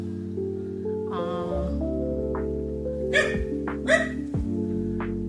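Dogs bark indoors, several sharp barks and yips in short bursts near the listener, over a steady backing of low music.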